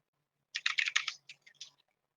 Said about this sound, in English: I'll type a message over here